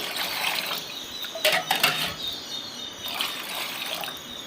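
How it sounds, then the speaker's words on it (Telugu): Water is swirled in a glass to dissolve salt and sugar for homemade lemon juice, giving two short bursts of sloshing liquid over a quiet, hissy background. "ఒక గ్లాస్ తీసుకొని సాల్ట్ అండ్ షుగర్ కరిగిపోవడానికి నేను ఈ విధంగానైతే గ్లాస్తోని వాటర్ని అయితే తొరలిస్తున్నాను"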